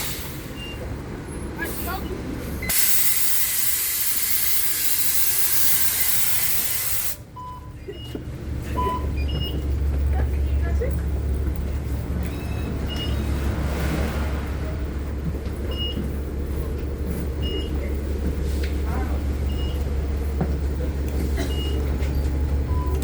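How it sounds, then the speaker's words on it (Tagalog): A bus pulls in at a stop on a rainy day after work, a steady low engine rumble with a burst of hissing air brake noise early on, nearby traffic around it and people talking throughout. "Ayan po yung bus na sasakyan natin."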